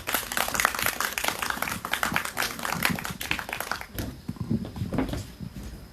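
An outdoor candlelight rally crowd in Seongju applauds to welcome the next speaker, dense clapping that thins and fades toward the end.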